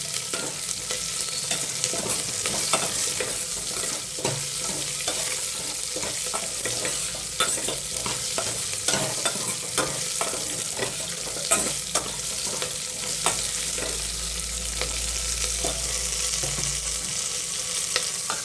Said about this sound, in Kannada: ಈರುಳ್ಳಿ ಸ್ವಲ್ಪ ಫ್ರೈ ಆಗಲಿ ಚೆನ್ನಾಗಿ.